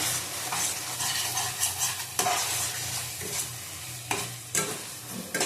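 Chicken and raw sweet-green mango sautéed in a hot pan, a steady loud sizzle with repeated spatula stirring and scraping strokes throughout, no voices.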